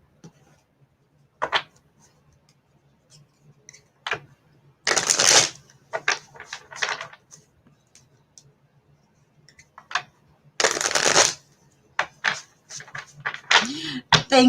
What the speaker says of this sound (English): Let me pull some more cards for you.